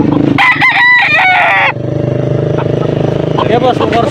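A rooster crows loudly nearby, one long strained call, over a steady rumbling motor that continues after the crow fades.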